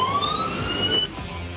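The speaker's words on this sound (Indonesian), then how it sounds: "Setiap robot sudah dilengkapi dengan sensor serta suara sirine untuk menghindari kecelakaan antar robot maupun robot dengan manusia." A factory logistics robot's warning siren sounds as a brief rising electronic wail, moderately loud and rising over a low industrial hum.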